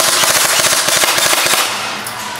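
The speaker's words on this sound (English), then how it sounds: "We have the VFC MP5. See what this bad boy can do." A VFC MP5 airsoft gun fires a rapid burst of sharp, close, loud mechanical shots in quick succession, then the shooting stops and a softer hiss trails off.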